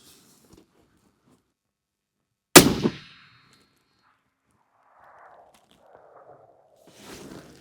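A single sharp rifle shot from a wind-bucking cartridge cracks out loud and close at a shooting range, its echo trailing briefly before quiet returns with faint distant rustling afterward.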